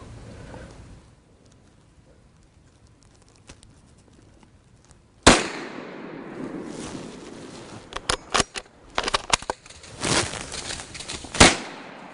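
A deer hunting rifle fires during an Indiana deer hunt: one loud, sharp blast cuts through quiet woods after a hushed lead-in, followed by a scatter of rustling, cracks and movement.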